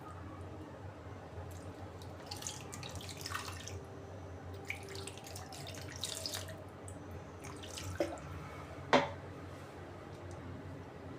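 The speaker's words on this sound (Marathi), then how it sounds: "पाणी टाकते आणि धुवून घ्यायचं." Homemade butter being washed under running water in a kitchen sink, a steady moderate stream with intermittent splashing and squishing as it is worked by hand, plus a couple of sharp drips near the end.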